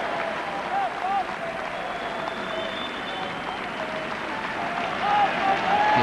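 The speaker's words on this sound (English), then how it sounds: "Applause from the crowd" A rugby crowd at a Newport Gwent Dragons versus Neath-Swansea Ospreys match applauds steadily across the stadium, a broad wash of clapping with a commentator's voice running over it and a swell near the end.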